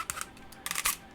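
Hip joint of a Bold Forms Lonewolf (Vangelus) toy robot action figure being moved outward, giving a few short, close squeaky creaks and plastic clicks spread across about a second, with no talking.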